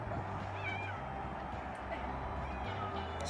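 A cat meows a couple of times close by, its cries rising above a steady hum and low background chatter.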